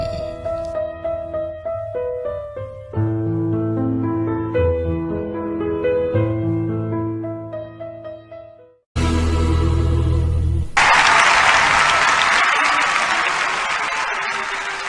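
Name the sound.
audience applause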